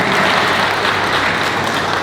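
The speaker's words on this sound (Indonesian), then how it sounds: "Untuk itu tepuk tangan buat Haji Krishna." Audience applause fills a press-conference room for a jambore nasional in Bali, a steady dense clapping that holds loud and unbroken from start to finish with no voices over it.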